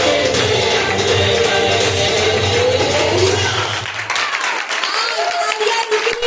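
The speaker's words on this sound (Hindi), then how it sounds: "तालियां रुकनी नहीं चाहिए जब तक वो स्टेज नहीं छोड़ते" An audience applauds a children's Christmas program performance, a continuous wash of clapping and crowd noise with a voice talking over it and music tones in the mix.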